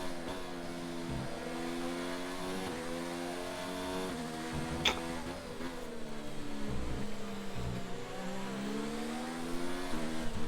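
Race cars at the Monaco GP in a racing video game, a close engine whine with stepped harmonic pitch rising and dropping through gear changes, one brief sharp click midway, steady and loud with no talk.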